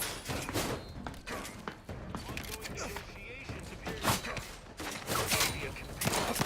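Gunfire in The Outer Worlds 2 rattles in dense, rapid bursts during close-range combat, loud and continuous with sharp impacts, while a voice talks over the shooting.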